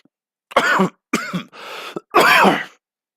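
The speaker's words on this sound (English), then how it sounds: "I'm still fighting off a cough." Several harsh, close coughs and throat-clearing bursts in a row, loud and alone with no talking.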